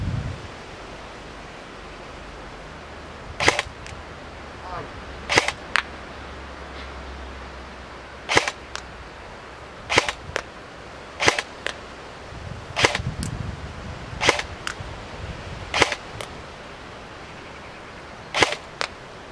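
King Arms SVD Dragunov airsoft AEG firing 0.25 g BBs, about a dozen sharp, separate shots spaced a second or two apart over a low steady outdoor hiss, no talking.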